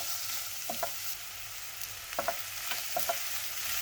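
Finely chopped vegetables stir-fry in garlic oil for burnt garlic fried rice, a soft, even sizzle with a few quick clicks and scrapes of the spatula. No one speaks.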